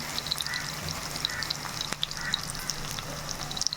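Onions frying in oil in a clay pot after mustard seeds have spluttered, for a fish curry, give a steady close sizzle with small crackling pops scattered throughout and no talking.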